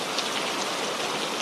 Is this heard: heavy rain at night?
yes